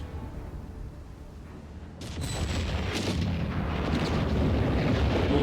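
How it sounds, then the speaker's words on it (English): An artillery barrage in the real-time strategy game Company of Heroes 3: quiet battlefield ambience, then a sharp distant boom followed by a rolling, rumbling roar of further blasts that grows steadily heavier. "More big barrages there running through the enemy artillery zone"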